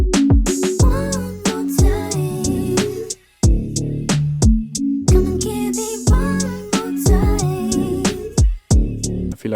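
Laid-back R&B beat built in Logic Pro X, with chopped vocal samples layered over steady drums, deep bass and warm chords; the groove briefly drops out twice before coming back in, loud and up front.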